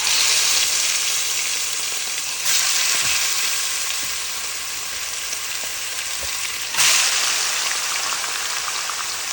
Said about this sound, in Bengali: সবগুলো মাংস তেলে দিয়ে দিলাম।